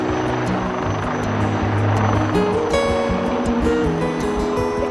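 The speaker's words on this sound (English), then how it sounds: "LUH proceeding rearwards with a unique tail rotor design, allowing it to handle strong winds in any direction." LUH helicopter flying backwards during an Aero India air show display, its rotor thudding loudly and steadily overhead with a whining turbine tone and broad rushing noise throughout.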